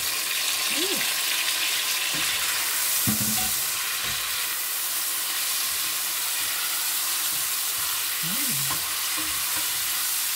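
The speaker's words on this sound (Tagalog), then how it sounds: "ilalagay na natin ang ating pusit" Squid sizzles and fries steadily in a hot pan for Filipino adobong pusit, a constant bright hissing crackle with a few faint clinks and brief bits of background voice.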